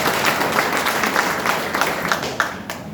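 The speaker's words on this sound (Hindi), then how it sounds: "एक बार जो है इसके लिए जो है जोरदार ताली।" An audience at a public gathering gives enthusiastic applause, a dense, loud burst of clapping from many hands that carries through the whole stretch and gradually eases toward the end.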